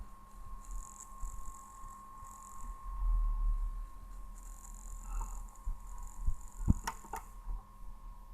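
A National Panasonic CS 720 unit running after a spray treatment, giving a low, steady mechanical hum with a faint tone, a few soft clicks and knocks near the end.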